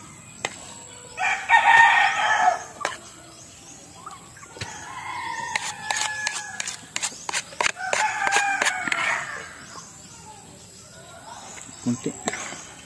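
Backyard chickens cluck and squawk close by during morning feeding, with a rooster crowing, in scattered bursts and short calls against a quiet background.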